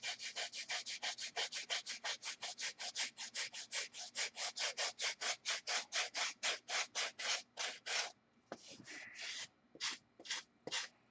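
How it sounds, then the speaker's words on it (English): Rapid, even strokes of a sanding block rubbing back and forth on wood and foam, dozens in a steady rhythm, then slower, spaced strokes near the end. "I'm going to take my sanding block."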